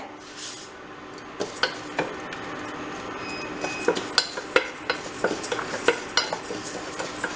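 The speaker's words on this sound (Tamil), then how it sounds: "இப்போ நான் இதை ஒரு குக்கரில் பாயசத்துக்கு இதை வறுக்க போகிறேன் இந்த பாசிப்பருப்பை" Moong dal dry-roasting in a pressure cooker for payasam, a spoon scraping and clinking against the metal in a quickening run of sharp strokes over a faint background hiss.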